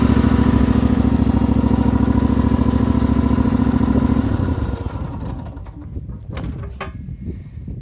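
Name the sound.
engine of a homemade wheel loader running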